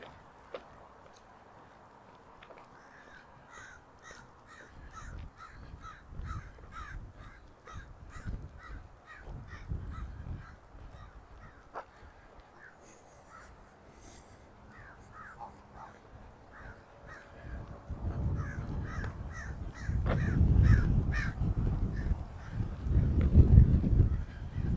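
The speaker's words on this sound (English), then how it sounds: "Some more gulls." Gulls call by a lakeshore on a chilly September walk in Regina, giving a long series of repeated harsh cries at a moderate distance, with a rising gust of wind near the end.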